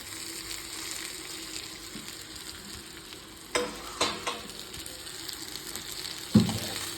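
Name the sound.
stirring fried cauliflower (gobi) in pan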